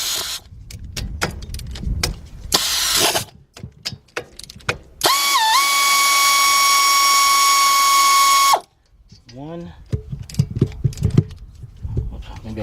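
A 12 mm shallow 3/8-drive socket on a ratchet loosens bolts on a 2007 Honda Accord's front brakes: close bursts of rapid clicking and metallic handling, broken by a few seconds of steady mechanical whine. No one talks.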